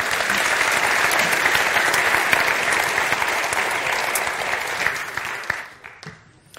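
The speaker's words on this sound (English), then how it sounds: "we're going to give them a really big applause" A large audience bursts into sustained applause, a thick crackle of many hands clapping that stays strong for several seconds before tapering off and dying away.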